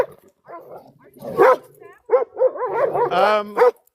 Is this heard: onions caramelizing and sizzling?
no